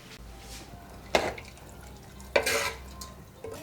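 Lid of a pressure cooker of khichdi being closed in a village kitchen in Uttarakhand, two sharp metallic clunks about a second apart against quiet kitchen background.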